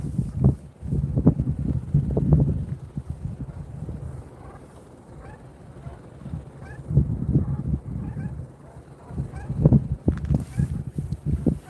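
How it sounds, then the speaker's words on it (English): Honking waterfowl swimming on water call in scattered bursts, some close and loud, mixed with gusts of wind buffeting the microphone on a chilly morning. "Can you hear the birds?"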